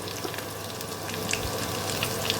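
Thinly sliced small garlic cloves dropped into hot oil with black cumin seeds in a pan for a raw tomato dish, sizzling and crackling steadily and close, with no voice over it.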